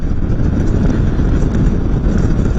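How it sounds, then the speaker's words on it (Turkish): A constant, heavy roar of wind buffeting the microphone while riding a motorcycle, dense and low, with no pauses and nothing else audible above it. "rüzgar sesi ciddi anlamda sizi rahatsız ediyor."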